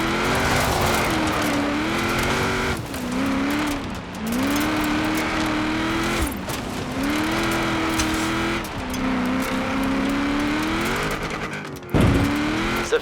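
A car engine in the racing game Forza Horizon 4, droning loudly and continuously with rising and falling revs as gears shift, ending in a brief sharp thump.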